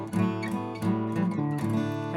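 A guitar in DADGAD tuning plays the inside major skeleton scale for an Irish-music chord lesson, with a quick run of plucked notes ringing over sustained low strings. It is fairly soft and close, with no voices.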